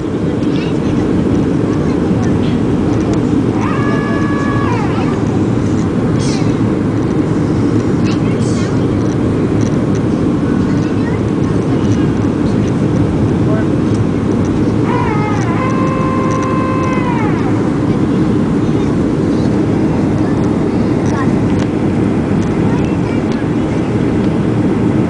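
Southwest Airlines passenger plane cabin on landing approach into El Paso, a loud steady engine and air roar filling the space, with a couple of faint tonal chimes or voices rising briefly above it.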